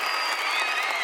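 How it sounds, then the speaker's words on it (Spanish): An opera audience at the end of a performance applauds steadily, a dense, continuous wash of clapping with whistles and shouts mixed in, sustained throughout. "el público muestra sus emociones a través de aplausos, silbos e incluso gritos"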